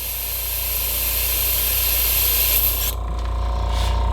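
An airbrush blasts water out to clean itself, a steady loud hiss of spray lasting several seconds before briefly easing, then continuing.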